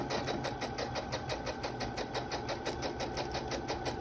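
Sewing machine stitching close to the edge of a fabric utensil bag, a fast steady mechanical chatter running evenly throughout, quiet and near, with no talk.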